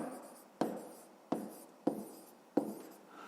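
Pen writing on paper during a fifth-grade maths exercise: quiet, close scratching with four distinct sharp strokes spaced roughly evenly, each fading into soft scribbling.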